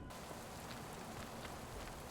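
Steady, even rain pours down continuously in the cyberpunk video game Born Punk, a dense close hiss of drops striking surfaces with no voices over it.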